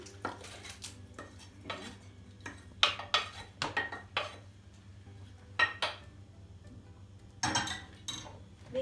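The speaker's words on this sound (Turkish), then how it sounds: "Şimdi karıştırıyorum." A spoon scrapes and clinks against a bowl while softened bulgur for kısır is mixed, giving irregular sharp taps and scrapes over a quiet background hum.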